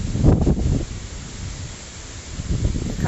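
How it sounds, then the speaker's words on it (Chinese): Strong gale-force wind in Henan tosses trees, a loud roaring rush with buffeting gusts at the start and end and a steadier blowing hiss between, with no talk. "看看有多大的风，估计有那个6级到7级大风"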